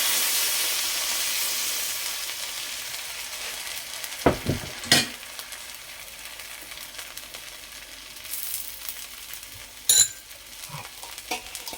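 Instant rava dosa batter of semolina, made without soda or Eno, sizzling on a hot pan as a second dosa cooks. There is a steady soft hiss with a few sharper crackles and clinks along the way, and nobody talks.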